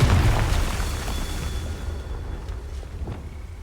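A Confringo fire spell from Hogwarts Legacy blasts with a loud, deep boom that rumbles and fades out over a few seconds, with no voices.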